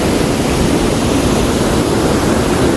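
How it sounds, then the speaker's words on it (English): Natural waterfall in a national forest on a winter trail, a steady, loud, broadband roar of falling water that holds unbroken throughout with no voices. "This is a natural waterfall."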